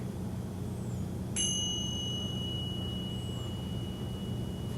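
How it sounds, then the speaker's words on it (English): A pair of tingsha cymbals is struck once, giving a bright, clear ring that sustains and slowly fades against a quiet room hum. "So here is what the chime is. These are called tingsas, and I finally found the tone that I like."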